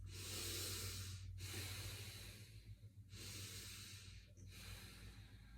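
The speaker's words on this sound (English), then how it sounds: "Take a few breaths." Deep, slow breathing during a bodyweight workout stretch, with two long airy inhale-exhale cycles close to the mic and no talking.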